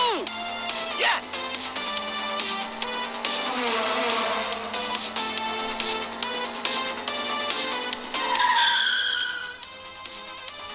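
Race cars skid with squealing tires during a video game race, loud and continuous amid music-like tones, with a rising screech near the end.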